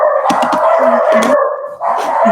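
Two dogs at home bark and howl loudly and close, with several quick barks giving way to drawn-out howling that carries through to the end.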